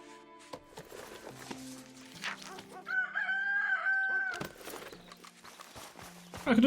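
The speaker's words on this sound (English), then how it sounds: "Cock-a-doodle-doo, motherfuckers!" Rooster crowing in the video game Red Dead Redemption II, a drawn-out crow rising over clucking fowl and horse hoof clip-clops, set against game background music with some sparse voice.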